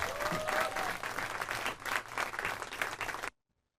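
Audience applause welcoming two singers onto the stage at a May memorial concert: a dense, steady wash of clapping from a large crowd that holds for about three seconds and then cuts off abruptly.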